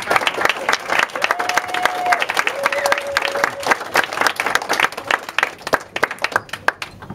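Wedding guests at a reception applaud the bride during the best man's speech, a full round of clapping with a couple of brief whistles early on, thinning to scattered claps at the end.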